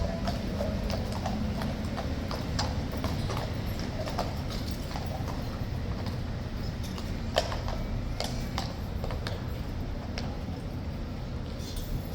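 Horses' hooves clip-clop on pavement during a guard-change dismount, with sparse, irregular hoof strikes over a constant loud outdoor rumble of wind and crowd noise.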